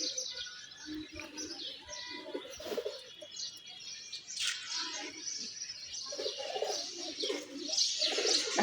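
Pigeons coo softly in repeated low rolling calls with a few chirps, close by amid faint background noise and no talk.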